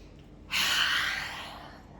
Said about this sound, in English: take a deep breath in to begin, and then exhale it all out